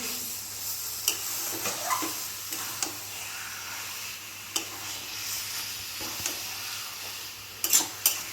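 Taro leaves sizzling and being stirred in a frying pan while cooked as a vegetarian offering dish, a steady close sizzle with intermittent scraping and clinks of a spatula against the pan.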